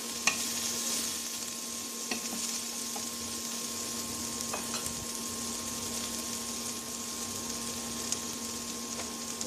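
Onion and garlic frying in a pan, a steady low hiss of sizzling oil running throughout with a few faint clicks of stirring, no voices.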